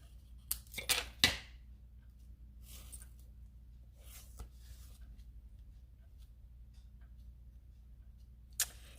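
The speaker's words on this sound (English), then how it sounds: "I might just trim that stem off a little bit at the bottom" Scissors snip through a paper flower stem in a few quick, close cuts near the start, followed by quieter rustling and one more crisp snip near the end.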